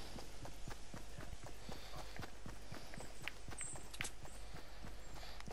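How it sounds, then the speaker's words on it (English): Fortnite footsteps patter in a steady, fairly quick rhythm of soft close thuds throughout, over a constant low game ambience with a few faint high chirps. "For a second there, your footsteps didn't sound really, how do I say, friendly"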